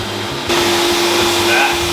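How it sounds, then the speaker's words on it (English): A vacuum cleaner switches on abruptly and settles into a loud, steady whooshing roar with a constant motor whine, used to clean out a cold air return during home remodeling, with voices faintly underneath. "turn the vacuum on"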